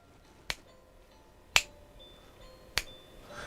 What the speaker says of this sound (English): Snapping your fingers.